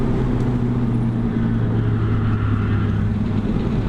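A car engine drones steadily on a race track from inside the cabin, a loud, continuous low hum that holds an even pitch throughout.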